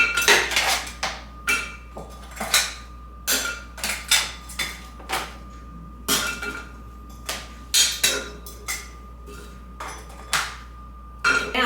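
Beef bones clatter and clunk one by one into a ceramic crock pot, a string of sharp, hard knocks and clinks at an uneven rhythm, close and fairly loud, with no talking.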